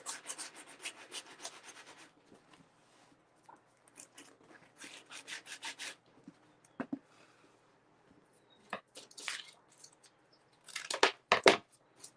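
Sandpaper rubs over putty on a model tugboat in short bursts of scratchy back-and-forth strokes. The sanding is close and fairly quiet, with pauses between passes and a few sharper scrapes near the end.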